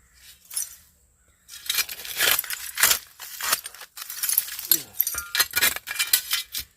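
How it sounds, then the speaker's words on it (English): Old glass bottles and broken shards clink and rattle against each other as someone digs through a buried glass pit while hunting for marbles, giving close, sharp, irregular chinks in short bursts. "This is like a glass pit."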